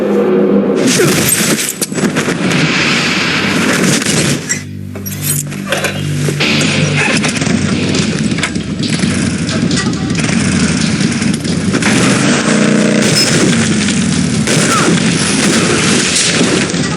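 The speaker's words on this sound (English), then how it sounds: "Six shots." Gunfire in the Metal Gear Solid 3 Snake Eater game booms loud and dense across the whole stretch, with sharp repeated shots over a heavy, constant roar of battle noise.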